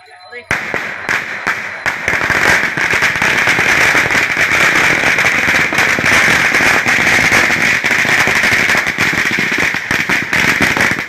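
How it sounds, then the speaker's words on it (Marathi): Firecrackers set off in a fireworks display for a Tulsi wedding celebration, a dense, loud barrage of rapid crackling bursts running almost without pause for several seconds after a brief quiet start. "लवकर गेले फटाके."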